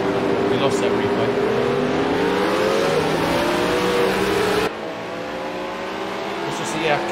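Race cars screaming through a replay of the Project Cars 2 racing game on PC, engines holding a loud, continuous high-revving whine with shifting pitch, then a sudden cut to another camera view with several cars still roaring close by.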